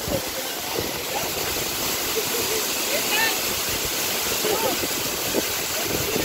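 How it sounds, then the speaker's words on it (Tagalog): A waterfall with strong, powerful flow roars steadily and close by, a dense, unbroken rush of falling water with faint voices in the background. "Dito kami sa falls."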